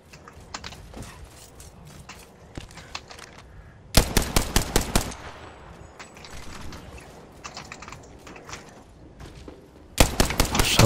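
Rapid automatic gunfire from Apex Legends comes in two loud bursts of about a second each, set between stretches of quieter scattered shots and clicks under a soft game ambience.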